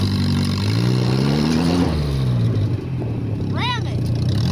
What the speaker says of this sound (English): It's revving a little high.